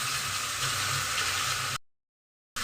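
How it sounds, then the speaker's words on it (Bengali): Ginger-garlic paste and spices frying in a pan, a steady close sizzle and hiss that cuts out abruptly partway, then briefly returns. "মশলাটা ভালো করে ভেজে নিচ্ছি, যাতে আদার কাঁচা গন্ধটা চলে যায়"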